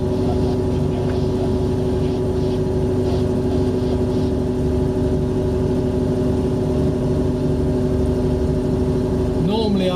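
A sailboat's inboard engine throttled up while motoring at about 3.5 knots, a loud steady mid-pitched drone with a constant hum that continues unbroken throughout, close and dominant.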